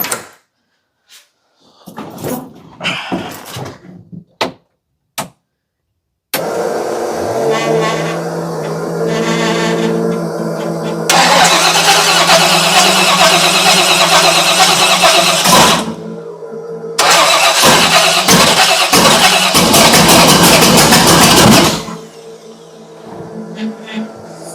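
A Chevrolet Cutlass engine cranks over in several short bursts, then catches and runs loudly with a steady roar, cuts out briefly and restarts before shutting off near the end.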